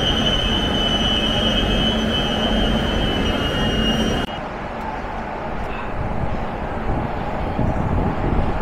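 The Rajdhani Express rumbles loudly and steadily into Sealdah station, with a high whine running through the first half before the tone drops and the roar carries on, close and continuous.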